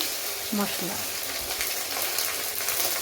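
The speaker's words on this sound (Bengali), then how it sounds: "মশলাটা নেড়ে চেড়ে ভালো করে কষিয়ে নেব।" Onion and spices, including cumin, bay leaf and chili, fry in hot oil in a wok for mutton ghugni, with a loud continuous sizzle and a brief voice murmur near the start.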